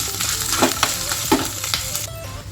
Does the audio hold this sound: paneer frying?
yes